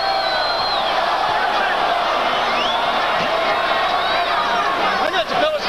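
Dense crowd noise fills a boxing arena during the Roy Jones Jr vs Mike McCallum fight, a steady roar and murmur of spectators with scattered shouts, running continuously under a commentator's voice.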